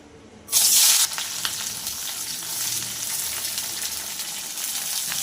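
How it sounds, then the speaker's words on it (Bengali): Onion and capsicum drop into hot oil with a sudden loud burst of sizzling, then settle into a steady, close frying hiss that continues to the end without speech. "তেলের মধ্যে দিয়ে দেবো পেঁয়াজ আর ক্যাপসিকাম"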